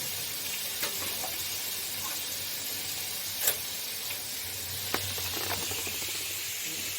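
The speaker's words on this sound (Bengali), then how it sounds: "এখন কুমড়ো ভাজা বসালাম।" Pumpkin slices frying in a pan, a soft steady hiss of oil with a few light clicks and taps of utensils, fairly quiet and close.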